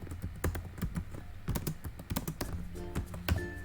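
Code being typed on a computer keyboard in a C programming lesson, with a steady run of crisp, close key clicks and a few heavier thumps, some irregular and some rapid, over a low background hum.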